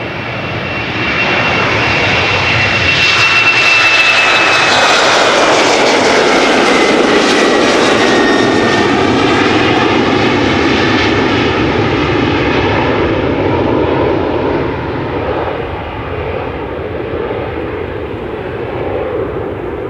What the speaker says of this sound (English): KLM Embraer 190 to Aberdeen up next.